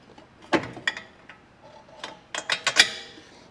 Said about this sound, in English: But we'll go get this other bolt through.